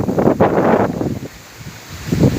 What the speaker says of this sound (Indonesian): sahabat harus waspada karena anginnya sangat kencang sekali